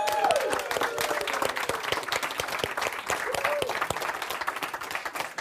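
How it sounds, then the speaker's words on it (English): Seminar audience at a hypnotherapy business training gives a sustained round of dense, close applause with scattered cheering, steady and fairly loud throughout, with brief voices rising over the clapping. "folks, cheer, clap, holler, stamp, stand up and give yourself a standing ovation"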